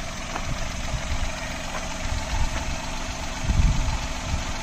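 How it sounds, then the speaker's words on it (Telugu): A car engine idles smoothly and steadily after a carbon-cleaning injection, heard close and alone with a low, even rumble. "నాకు ఇంజిన్ అయితే ఎలాగుండేది మీకు గర గర గర గర ఉండేది కదా ఇప్పుడు చూడండి సౌండ్ అయితే చేంజ్ అయిపోయింది స్మూత్ వచ్చింది"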